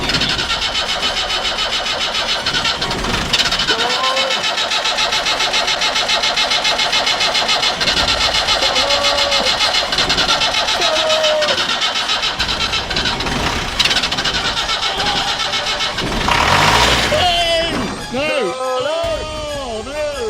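An old Land Rover engine cranks repeatedly on a jump start, a loud steady churning that continues for a long stretch with brief revving surges, while people talk over it.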